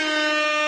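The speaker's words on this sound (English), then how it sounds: "there's an air horn" A blaring air horn sound effect, one sustained loud blast held steady for under a second, alone with no voices.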